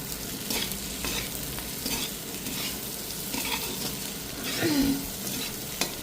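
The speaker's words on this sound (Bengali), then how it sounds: "এবার এটাকে ভালো করে ভেজে নিতে হবে" Chopped onion frying in hot oil with finely pasted ginger for restaurant-style chilli chicken, a steady close sizzle with stirring scrapes throughout and a brief louder crackle near the end, no voices.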